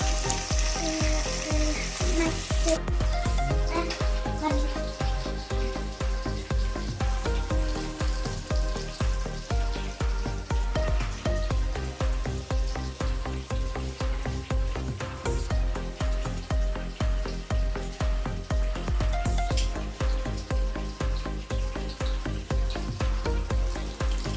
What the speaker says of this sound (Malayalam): ചിക്കൻ ഫ്രൈ ആകാവുന്നതിനുള്ള വെയിറ്റിങ്ങിലാണ് ഞങ്ങൾ ചിക്കൻ ഫ്രൈ ആയിട്ട് വേണം ബാക്കിയുള്ള കാര്യങ്ങളിലേക്ക് പോകാൻ